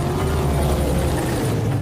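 Black Hawk helicopters in a film scene make a steady, loud rotor and engine roar that fills the whole clip with no pause, heard alone without speech.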